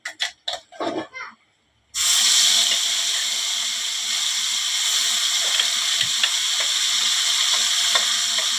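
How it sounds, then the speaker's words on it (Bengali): Bay leaf and nigella seeds tempering in hot oil in a home kitchen, a loud steady sizzle that bursts in after a few short clatters and a pause, crackling on with small pops. "তেজপাতা কালজিরা ফোড়ন দিয়েছি।"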